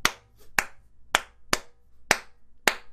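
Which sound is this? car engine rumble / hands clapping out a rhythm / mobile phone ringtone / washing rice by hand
hands clapping out a rhythm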